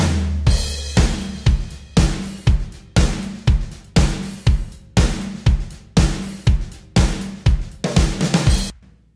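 A programmed pop-country drum kit from Superior Drummer, reinforced with triggered kick and snare samples, pounds out a steady groove with punchy kicks, cracking snares and constant cymbal wash, loud and alone.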